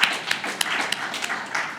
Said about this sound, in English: Let's clap once again for Professor Ruby.